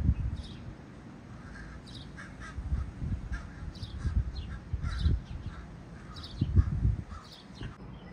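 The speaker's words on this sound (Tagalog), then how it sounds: "Tatlo na sila mga kababayan yung uwak ko." Several crows caw repeatedly in short harsh bursts at a moderate distance, with low rumbling background noise throughout.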